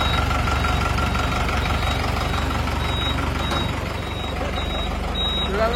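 Close by, a new Tata truck's engine idles in a steady low drone, and a reversing alarm beeps repeatedly above it, dipping briefly near the end.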